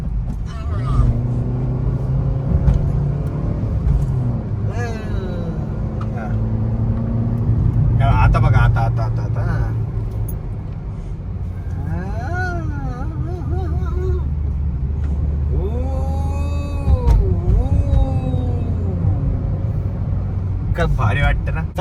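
A car's engine hums steadily from inside the cabin while it is driven and turned, heard under continuous talk from the driver.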